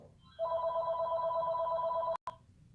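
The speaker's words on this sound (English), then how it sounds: "Phone is ringing." An electronic phone ringtone sounds as a steady, even tone for nearly two seconds, breaks off briefly, then gives one short final blip. No voices.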